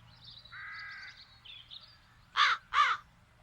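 Crows in The Dark Eye: Chains of Satinav give two loud, harsh caws close together near the end, after softer bird chatter.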